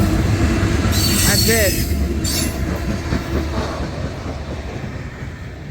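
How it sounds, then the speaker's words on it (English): A short freight train of six locomotives, including a CSX flared-radiator unit and two CN engines, rumbles past loud and close with high wheel squeal and steady rail clatter, fading slightly; a voice speaks briefly. "Yeah, this is a very short train."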